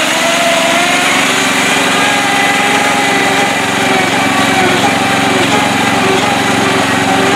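A Mastercraft lawn tractor engine runs steadily and loud through mud, a constant high-pitched buzzing drone with no pauses across the whole stretch.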